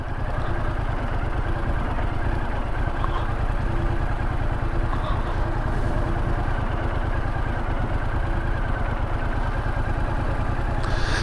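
Yamaha MT-07 motorcycle engine while riding, a steady low rumbling drone with constant wind noise throughout, heard from the rider's position.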